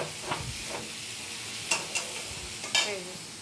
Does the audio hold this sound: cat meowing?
no